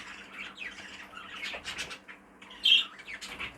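Show budgerigars, a sky blue father and cobalt son, give scattered squawks and chirps, with one sharper call standing out near the end, close and fairly clear against a quiet room.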